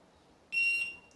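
A single short, high electronic beep from a DIY spot welder for nickel strip and batteries sounds in a quiet room, clear and close, lasting about half a second.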